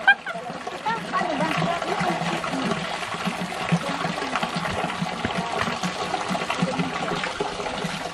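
Fresh mountain water trickling and splashing from an Alpine fountain near Grindelwald First, a steady busy burble of running water heard close up, with voices talking over it.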